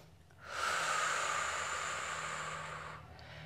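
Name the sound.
deep breathing during pilates stretch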